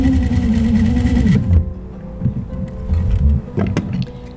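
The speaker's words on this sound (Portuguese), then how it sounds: "Eu vou passar a minha costura direto." A sewing machine runs steadily, stitching a diagonal seam across a patchwork block, its loud close whir lasting about a second and a half before it stops, followed by quieter handling sounds and brief bursts of motor hum.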